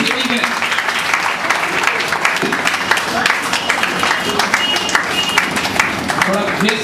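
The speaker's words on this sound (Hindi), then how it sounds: "तालियों से स्वागत करें" Audience at a children's event applauding an award winner in loud, lively clapping throughout, with voices and crowd chatter mixed in.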